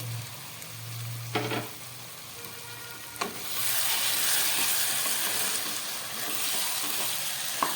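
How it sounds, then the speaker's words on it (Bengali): Mutton curry sizzles in oil in a pan as the lid comes off, a soft crackle with a couple of knocks that swells into a loud, steady hiss of frying. "দেখুন মাংসটা কষে গেছে, কষে মাংসের থেকে আস্তে আস্তে তেল বেরিয়ে গেছে"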